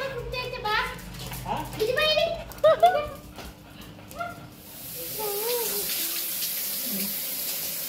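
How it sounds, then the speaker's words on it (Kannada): Water running during a bath at a family home: voices of adults and children talk over it at first, then a steady, fairly loud rush of water flowing on its own. "ನೋಡಿ, ಇವರು ಸ್ನಾನ ಮಾಡಿಸ್ತಿದ್ದಾರೆ ಹೆಚ್ಚಿಗೆ."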